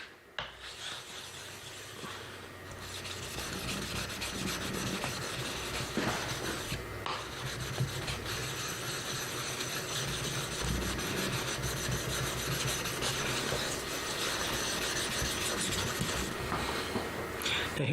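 A ceramic sharpening stone being wiped down with steady, continuous rubbing strokes, close and fairly loud, running without a break for most of the stretch with no talk over it.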